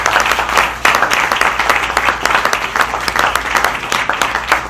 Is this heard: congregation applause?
yes